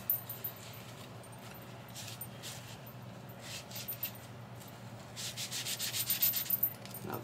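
Rub 'n Buff metallic wax being rubbed onto a plastic wipes container lid, heard as soft, close, repeated scrubbing strokes that grow quicker and louder toward the end, with no talking.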